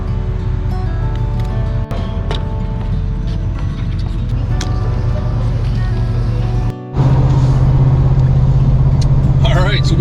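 A 2023 pickup truck cruises onto a highway, its engine and tire roar forming a loud, steady drone from inside the cab; a brief dip near the end gives way to a deeper, firmer hum as it gets up to speed.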